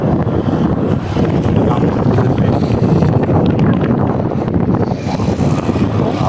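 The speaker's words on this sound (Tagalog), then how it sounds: "lakas ng hangin eh" Strong wind roars steadily into the microphone at the Pasig floodway, a constant loud rumbling buffet with no break.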